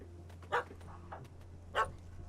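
A dog barks in The Witcher 3 video game, two sharp, fairly close yaps about a second apart over low ambient game noise.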